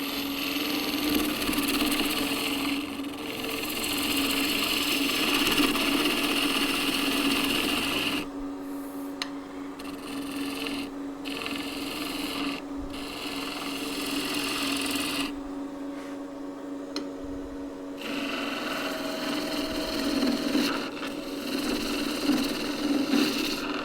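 Photinia wood turning on a lathe under a 1-inch skew chisel, a steady close whirring hum with a scraping, rasping edge, broken by brief quieter pauses as the tool lifts off and then bites again.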